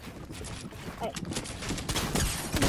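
Rapid bursts of gunfire from the video game Fortnite crackle over a busy game soundscape, dense and loud throughout the short stretch.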